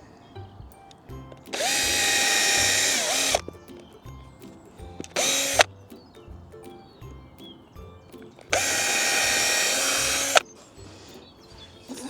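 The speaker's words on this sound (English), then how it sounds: "Just want to know where to drill the holes." A power drill whirs in three bursts, drilling screw holes in an allotment garden: two long runs and a short one between, each spinning up sharply and cutting off, with quiet pauses between.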